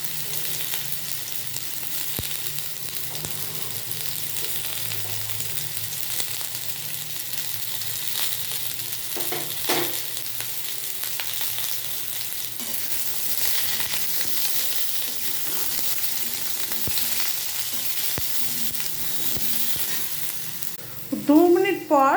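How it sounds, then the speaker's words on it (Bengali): Vegetables frying in a wok over a lowered flame, a steady close sizzle running throughout with occasional light clicks and stirring scrapes, and a short burst of louder scraping at the end. "আঁচের ফ্লেমটা একটু কমিয়ে দেবো, দিয়ে এটা ভেজে নেব।"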